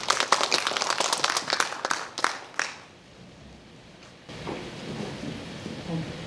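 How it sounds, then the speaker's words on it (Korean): A seminar audience claps in welcome for a professor presenting a paper at a Korean memorial scholarly event; dense applause rings out for about two and a half seconds, then fades to a quiet room hush. "먼저 여러분들 격려의 박수로 맞아주시면 고맙겠습니다."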